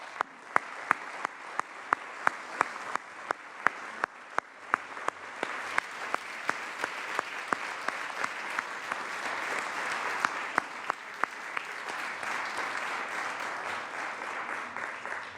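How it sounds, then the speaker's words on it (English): Senators on the California Senate floor give a round of applause, starting with distinct sharp individual claps that swell into steady, moderately distant clapping through the chamber. "Please give them a round of applause."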